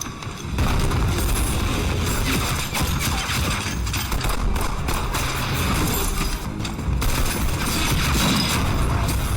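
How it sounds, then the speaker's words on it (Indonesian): Dense, continuous gunfire fills a staged film shootout between elite police and mafia, with rapid overlapping shots and booms running loud almost the whole time after a brief quieter start. "baku tembak pun terjadi antara pasukan elit ini dengan para"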